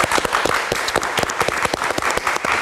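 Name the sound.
studio audience applause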